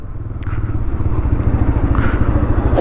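A TVS Raider commuter motorcycle's exhaust burbles close by with a rapid, even pulse at idle, steady and moderately loud, with a faint clatter.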